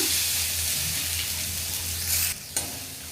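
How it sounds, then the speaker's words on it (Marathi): Red chili masala and coriander powder sizzle in oil for paneer bhurji, a continuous close frying hiss with scraping stirs throughout, briefly dipping near the end before a quick clatter. "एक चमचा लाल तिखट मसाला व्यवस्थित परतून घेऊया"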